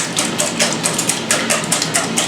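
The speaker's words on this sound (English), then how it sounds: "Whisk that together." Eggs whisked in an orange mixing bowl for a hash brown breakfast casserole, a fast steady series of close metallic clicks and taps against the bowl with no talking.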